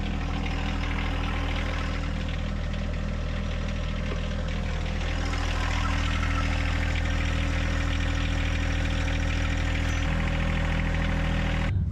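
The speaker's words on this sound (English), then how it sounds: "So we're going to start the tractor and lower it down." A John Deere compact tractor engine runs steadily at a constant idle, a continuous low droning hum with no voices.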